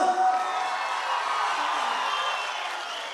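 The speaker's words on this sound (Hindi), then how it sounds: "तालियां।" Crowd at the International Minjar Fair cheering and clapping in a steady, dense wash of noise that holds for a few seconds, loud and close throughout.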